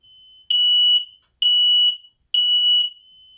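A smoke detector sounds right nearby in a loud, piercing, high-pitched alarm, three sharp half-second beeps in a steady repeating pattern with short gaps between them.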